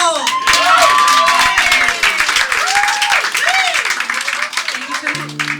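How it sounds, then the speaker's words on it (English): Audience at a music club applauds and cheers a returning singer, dense clapping with whoops and shouted voices rising over it, loud and close throughout. "Will you welcome back to the stage now with a massive round of applause"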